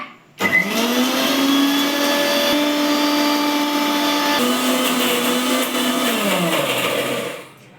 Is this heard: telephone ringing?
no